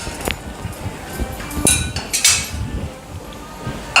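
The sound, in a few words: pan being taken off the stove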